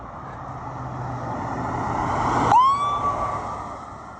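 An ambulance passes on a road: a rumble of traffic builds toward a close point, then a siren wail cuts in sharply and holds as the vehicle goes by, with no voices.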